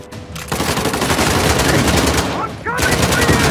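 Rapid video game gunfire from Uncharted: The Lost Legacy, dense bursts of automatic shots packed close together and loud, running almost without pause with a short break near the end.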